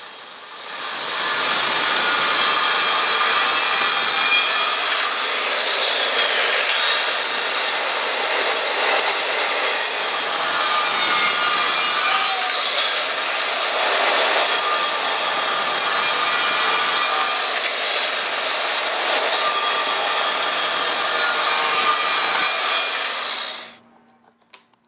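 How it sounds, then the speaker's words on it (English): A circular saw makes repeated passes through wood to cut a dado, a loud sustained whine that rises and dips with each pass before cutting off abruptly at the end. "using the circular saw to make several passes through the area where the wood will be removed"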